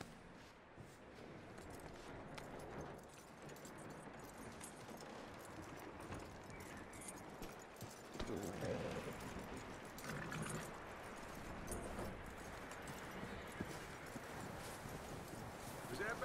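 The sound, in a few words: horse hooves clip-clopping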